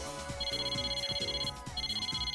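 A phone rings in the Persona 4 Arena Ultimax fighting game, a steady electronic ringtone with a warbling pulse playing in two bursts separated by a short gap, over background music.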